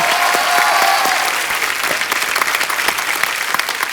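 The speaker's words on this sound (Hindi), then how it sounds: "सचिन जिगर के लिए एक बार जोरदार तालियां।" Studio audience applause at a Hindi comedy talk show taping, a loud, dense wash of clapping that stays steady and close for the whole stretch, with no voices over it.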